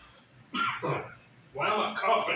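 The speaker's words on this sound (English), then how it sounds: "Why am I coughing?" Two rough bursts of coughing or throat clearing, close and fairly loud, separated by a brief pause.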